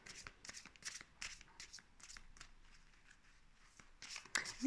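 Playing cards being shuffled by hand, a run of quick riffling bursts fairly close up with short pauses between them, ending in a louder final riffle.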